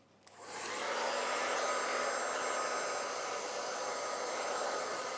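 A handheld hairdryer blows steadily on hair during a Brazilian keratin blow-dry treatment, switching on with a click and then holding a loud, continuous broadband whoosh with no talking.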